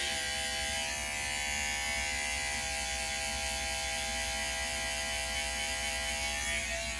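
A hair clipper with no guard, lever open, buzzes steadily and close up as it trims a beard, a constant electric drone with no pauses.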